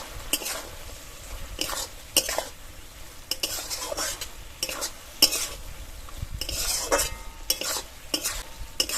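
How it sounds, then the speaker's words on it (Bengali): Fried okra (bhindi) tipped into sizzling masala in a pan and stirred for a curd okra curry: repeated bursts of spoon-on-pan scraping and clatter over a crackling sizzle, close and rhythmic, without speech. "এবার এর মধ্যে ভেজে রাখা ভেন্ডিগুলো দিয়ে দেবো"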